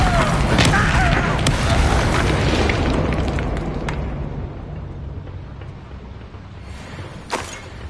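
A Bombarda blasting spell goes off in the Hogwarts video game, a loud booming explosion that rolls and fades slowly, then a brief sharp pop near the end.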